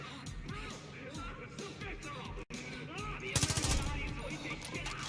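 Gunfire in Far Cry 5, bursts of shots with a rapid volley near the middle, over busy game action and voices.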